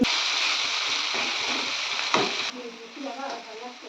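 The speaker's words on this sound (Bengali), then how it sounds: "এই যে ভাতকে একটু ফ্রাইড রাইস মতো করে নিচ্ছি, সাথে দিয়ে দিয়েছিলাম গাজর" Cooked rice with carrots stir-fried in a pan like fried rice gives a steady, close sizzle with scraping stirs, then drops to quieter, sparser crackling toward the end.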